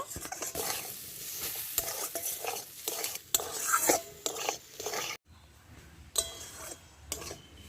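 Grated carrot filling with spices and amchur powder for paratha is stirred in a pan, close scraping and clinking strokes of a spoon against metal in an irregular rhythm, with a light sizzle and a brief quieter pause midway.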